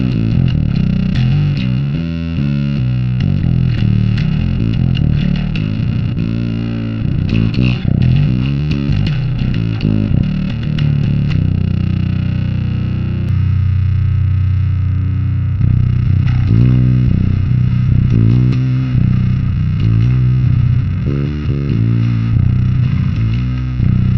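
A fuzz-distorted bass guitar through an STL Tonality Will Putney Suite amp simulator plays a bouncy, riff-driven line, thick and saturated, steady and loud throughout with no voices.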